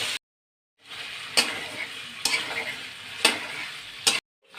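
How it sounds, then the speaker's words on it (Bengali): Potatoes fry in hot oil for a Bengali vegetarian curry, with a loud, close sizzle and several sharp spatula scrapes at a steady pace. The sound stops briefly at the start and the end. "আলুগুলো আমি লাল লাল করে ভেজে নেব"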